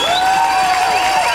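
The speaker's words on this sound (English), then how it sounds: "you can hear the crowd roaring for Becky Sundstrom" Crowd at a 1997 speedskating sprint World Cup race in Milwaukee roaring for skater Becky Sundstrom, a loud sustained wash of cheering and yelling in an indoor arena, with a shrill whistle-like tone running through it.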